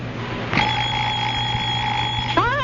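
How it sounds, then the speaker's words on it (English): A Big Ben wind-up alarm clock rings at 4 a.m., starting with a sudden bell clatter and ringing steadily and loudly for about two seconds, with a brief burst at the end. "I'll murder that alarm clock."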